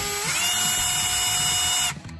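A cordless screwdriver with a clip-on work light spins up and runs steadily, its close, loud whine holding level at one pitch before cutting off near the end.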